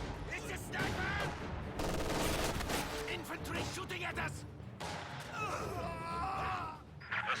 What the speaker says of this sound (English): Infantry shooting at us.